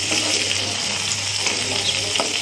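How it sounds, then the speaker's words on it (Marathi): A ground masala paste fries in a pan with a steady, loud sizzle throughout while it is stirred, close up and without speech. "हे वाटण छान मस्त असं भाजून घ्यायचं आहे पूर्ण"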